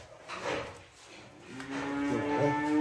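Dairy cows and heifers at a livestock sale moo in drawn-out, tonal calls: one shorter low moo early on, then a longer, louder lowing that swells and holds to the end, fairly close.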